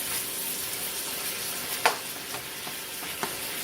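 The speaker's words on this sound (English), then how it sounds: "You're going to add half a cup of diced onion" Diced onion sizzles in a hot frying pan for a minestrone hamburger casserole, a steady bright hiss broken by a few faint stirring scrapes, with no voices.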